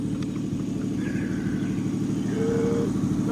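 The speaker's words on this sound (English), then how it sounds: "The idle sounds good too." A Lexus IS300 engine idles low and steady at its first startup after a Link ECU install, a continuous near rumble with a faint whine partway through.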